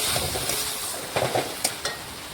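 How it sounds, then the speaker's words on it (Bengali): Okra, already fried, being stirred and mixed in a pan for a vegetarian dish, giving a steady low sizzle with a few sharp scraping clatters of the spatula near the end, no voices. "এই দেখুন মিশিয়ে একটু রান্না করে নিচ্ছি।"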